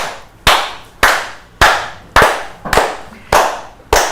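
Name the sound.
people clapping after cricket win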